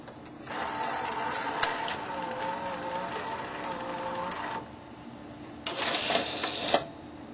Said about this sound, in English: Here's a look at the bottom of the VCR as a tape is loaded.